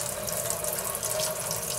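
Hot water runs steadily from a tap into a sink in a homemade CO2 bed bug trap setup, a continuous close hiss and splash with no talk over it.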